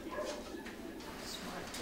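A dog in a medical research facility, held gently in a harness for a heart-function check, gives soft whimpering yips and quiet woofs at close range over a steady background.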